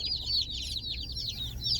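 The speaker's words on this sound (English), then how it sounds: "Taking the chicks over to the brooder." A group of baby meat chicks peep in a box on the way to a brooder, rapid high chirps overlapping continuously at close range.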